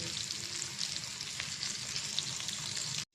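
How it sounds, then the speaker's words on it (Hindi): A chicken steak fries in hot oil in a pan, giving a steady, dense sizzle up close that holds evenly for a few seconds with no voices. "हम इसको अलट पलट करते पकाते रहेंगे जब तक इस पर अच्छा सा कलर ना आ जाए"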